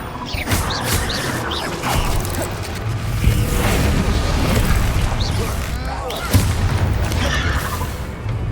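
Incendio fire spells cast repeatedly in Hogwarts Legacy while clearing a room on hard difficulty, a steady roar of flame and crackling impacts with sharp thumps scattered through a busy, loud fight, voices shouting beneath.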